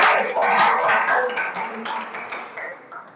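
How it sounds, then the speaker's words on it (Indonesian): A class of students claps in a classroom lesson on plant roots. A short burst of hand clapping rises quickly, then tapers into sparse, fading claps over about three seconds. "Beri tepuk tangan dulu."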